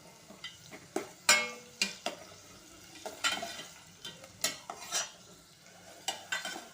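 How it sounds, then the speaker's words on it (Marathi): Chopped onion is sautéed in a pot for chicken soup, a spoon scraping and knocking against the metal in quick, irregular strokes over a soft sizzle, close and with no voices. "आणि कांदाही थोडासा परतून घ्यायचा आहे, मऊ असा होईल असाच परतून घ्यायचा आहे आपल्याला"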